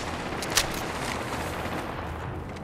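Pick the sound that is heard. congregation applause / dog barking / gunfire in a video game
gunfire in a video game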